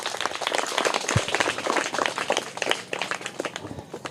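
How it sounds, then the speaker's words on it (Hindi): A dense patter of applause greets the third-prize winner, who receives a pen as a prize at a school event; steady, close clapping holds at an even level for a few seconds with no voices over it. "तो इनके लिए भी जोरदार तालियां हो जाएं"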